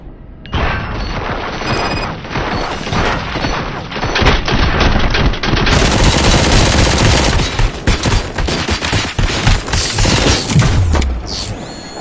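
Dense, sustained gunfire from the video game RoboCop: Rogue City, a loud fusillade of rapid machine-gun bursts with booming impacts and mechanical clatter running nearly unbroken for the whole stretch.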